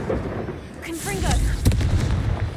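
Confringo spell blasts in the Hogwarts Legacy video game, a burst of booming explosions during a troll fight, with a voice shouting over the effects.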